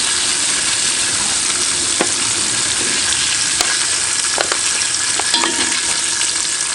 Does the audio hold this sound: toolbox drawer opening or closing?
no